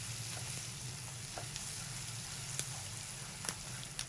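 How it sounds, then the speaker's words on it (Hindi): Dried coconut and cinnamon powder are stirred into semolina and sesame halwa in a hot pan, giving a soft continuous sizzle with scattered scraping taps from the spoon. "ये 50 ग्राम मेरे पास खोपरा है और ये थोड़ी सी दालचीनी का पाउडर है। इन चीज़ों को मिक्स करेंगे अच्छी तरीके से।"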